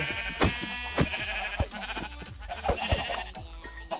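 Sheep in Minecraft bleat several times in quick succession over a steady game-like background, with a few sharp percussive clicks between calls.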